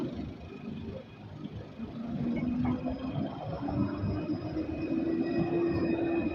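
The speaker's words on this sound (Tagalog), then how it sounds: "Ayun po yung train na ating sinakyan. Paalis na naman po." A train pulls away in a steady low rumble that grows slightly louder, with a faint tonal hum and wheel noise rising over it.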